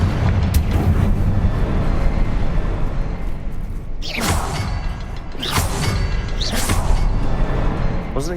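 A fiery Confringo spell blast in Hogwarts Legacy bursts out with a whooshing boom, followed by a couple more sharp impacts over a constant rumbling game background.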